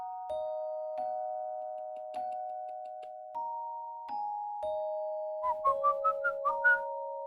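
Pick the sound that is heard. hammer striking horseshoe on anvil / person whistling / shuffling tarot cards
person whistling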